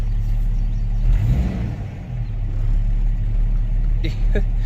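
A Jeep engine idles with a deep, steady low rumble, close and continuous, with a slight swell partway through.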